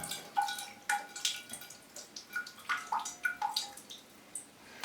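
Water drips and splashes in a scattered, irregular series of close, clear plinks while orchids in trays are watered, with no talking.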